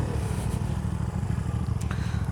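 Motorcycle engine labouring on a steep hill road in the Gorakh Hills of Sindh, a loud, steady low rumble close by with no clear revving peaks, carrying on without pause.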